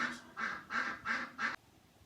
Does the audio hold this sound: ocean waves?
no